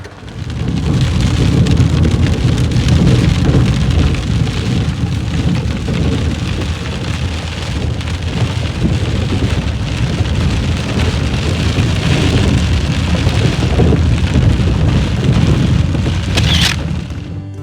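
Heavy rain from a thunderstorm in the Cohutta Mountains of North Georgia pours steadily, a loud dense hiss with low rumbling thunder underneath, continuing without letup.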